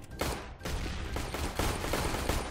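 Rapid gunfire from a CS:GO match, with AWP play featured, rattles in dense overlapping bursts nearly the whole time, loud and close with sharp repeated impacts.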